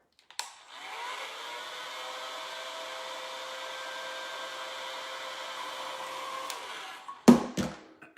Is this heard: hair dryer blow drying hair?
yes